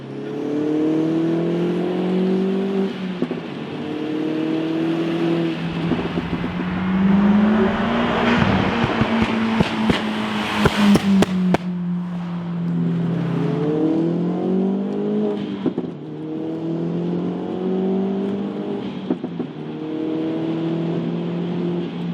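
A Mk1 Audi S3 accelerates hard through the gears from inside the cabin, its turbocharged engine rising in pitch in repeated sweeps, dropping at each gear change, with rattles and clicks around the middle shifts.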